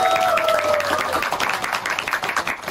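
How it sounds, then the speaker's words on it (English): A crowd applauds at a talk show, dense continuous clapping close and fairly loud, with a short whistle-like tone at the start fading under the claps. "Have a big applause"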